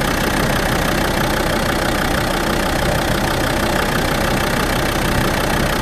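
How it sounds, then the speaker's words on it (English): A Land Rover Defender 90 TD5 diesel engine idles with a steady, continuous rumble throughout, even and unbroken, with no voices. "the noisy engine sounds a lot quieter now"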